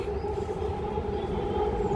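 A metro train rumbles steadily along the rails, a constant low roar with a sustained mechanical whine, close and fairly loud, no voices.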